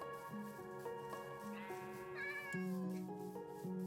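A cat meows repeatedly in the Minecraft video game, several short rising cries heard clearly over steady game music.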